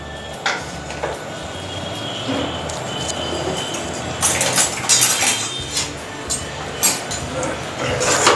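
Jaggery being stirred in a pan for Gujarati sukhdi, the heat switched off: a steady scraping and clinking of a spoon against metal, with brighter bursts of scraping in the second half and no talk.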